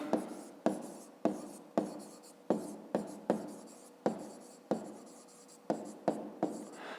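A pen writes out a fifth-grade maths exercise on paper, making a steady run of short, crisp strokes close up with no talk.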